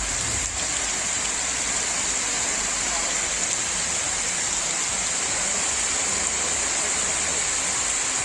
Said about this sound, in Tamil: நகரின் பெரும்பாலான பகுதிகளில் பலத்த மழை பெய்தது